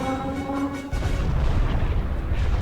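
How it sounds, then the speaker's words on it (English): Huge explosion from a Star Wars: The Clone Wars episode: sustained tonal music suddenly gives way to a loud, deep, rumbling blast that roars on for nearly two seconds. "That was a big explosion."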